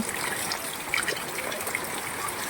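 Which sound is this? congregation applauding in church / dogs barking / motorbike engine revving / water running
water running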